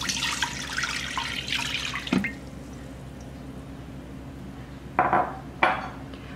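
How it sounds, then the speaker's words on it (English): Chicken stock pours into an Instant Pot for about two seconds with a soft splashing rush, followed by a few brief clinks and splashes. "So I'll put in the 2 cups of chicken stock."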